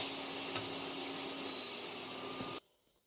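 Carrots stewing with onion in a pan over low heat give off a steady, soft sizzle and hiss. It runs evenly for about two and a half seconds, then cuts off abruptly to near quiet, as if the heat was switched off.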